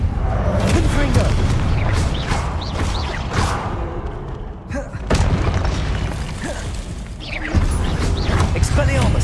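Fireball blasts from the Confringo spell in Hogwarts Legacy boom repeatedly amid continuous clattering combat effects, loud and dense, with a player's voice shouting spell names over the din.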